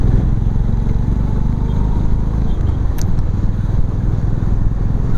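A Honda CB350 motorcycle rumbles loudly close to the microphone while riding, a steady engine drone with wind buffeting and a brief click as it slows under hard braking.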